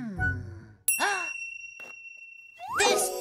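A cartoon bell dings brightly with a long ringing tail, followed by another sharp ding later, set among playful animated sound effects and a short vocal groan.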